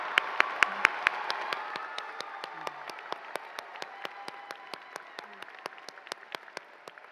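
Graduation-ceremony audience applauding in a large hall: a faint, distant wash of crowd clapping, pierced throughout by sharp, evenly spaced individual claps from someone nearby.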